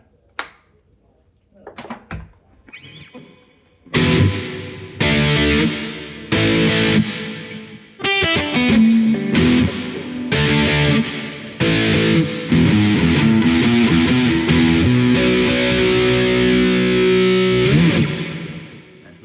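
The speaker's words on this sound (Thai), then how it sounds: "อ่ะเดี๋ยวลองเสียงแตกดูนะครับ" Distorted electric guitar tone from a Squier Olarn Signature Strat Series II on the middle pickup, played as loud strummed chords and ringing notes after a few brief taps and clicks.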